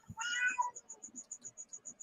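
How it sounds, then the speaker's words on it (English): A cat gives one loud, close meow lasting about half a second, followed by a steady run of short, high, evenly spaced chirps. "God damn, cat."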